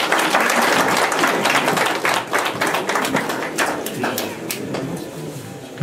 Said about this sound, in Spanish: Que se escuchen los votos de aplauso